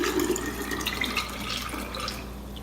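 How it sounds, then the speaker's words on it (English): Two cups of water poured through a funnel into a jar while making almond milk, a steady close splashing and trickling stream that runs continuously before easing slightly. "So first, we pour the 2 cups of water into"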